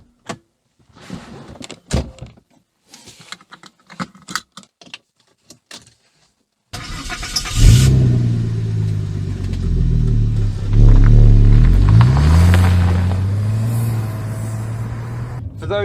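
A petrol Citroën C6 starts after several seconds of light handling clicks and door sounds, then its engine rumbles steadily with rising revs as the car pulls away, loud and close throughout.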